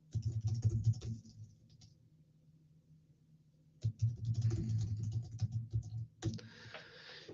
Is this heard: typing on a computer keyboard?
yes